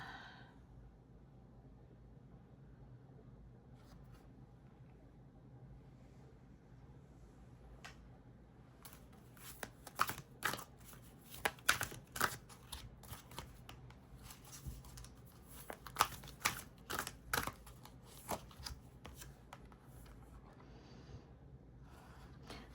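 A deck of cards is shuffled for a card reading: quiet, crisp riffling clicks and snaps come in short clustered bursts after a near-silent start.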